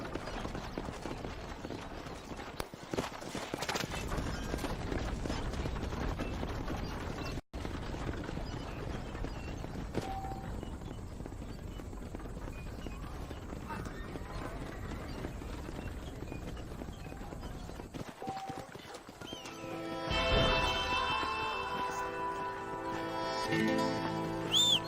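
Horse hooves clip-clop steadily while riding in the game Red Dead Redemption, a continuous rhythmic trot under a wash of ambient noise, with a brief cut partway and a shift in the background near the end.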